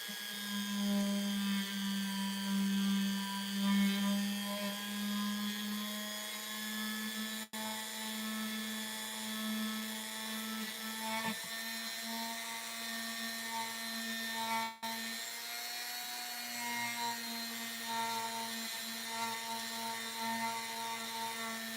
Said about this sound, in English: we're polishing up these frets now